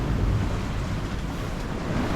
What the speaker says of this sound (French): Là il y a quand même des belles vagues.